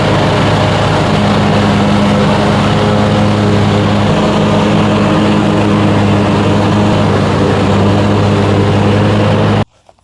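A lawn mower fitted with a grass blocker chute drones steadily and loudly while cutting grass, its engine hum holding constant until it cuts off abruptly near the end.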